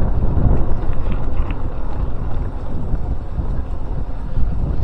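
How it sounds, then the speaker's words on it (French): Strong gusting wind buffeting the microphone outdoors on a slag heap, a loud, continuous low roar with no voices. "Encore beaucoup de vent."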